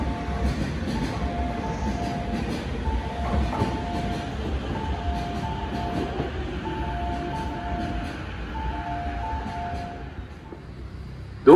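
A Tokyo Metro Tozai Line train runs through Nishi-Funabashi station with a steady rumble and rhythmic clickety-clack of wheels over rail joints, fading toward the end, with little talk present.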